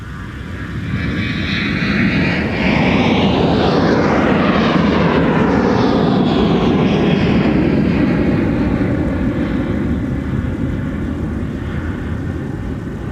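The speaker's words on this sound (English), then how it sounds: "There goes Freedom 1 off into the clouds." An airliner taking off from the runway at MSP airport roars loudly as its engine noise swells and sweeps past, then holds a broad, steady rumble as it climbs away.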